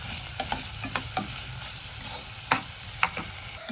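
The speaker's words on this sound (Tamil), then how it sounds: "எண்ணெய் கொதிச்சுட்டு நாங்கள் இந்த வெங்காயம், பச்சை மிளகாய், கருவேப்பிலை 3ஐயும் போடுவோம்." Onion, green chili and curry leaves fry in hot oil for a fish curry, giving a dense, close sizzle with a handful of sharp spatula clicks and taps scattered over it.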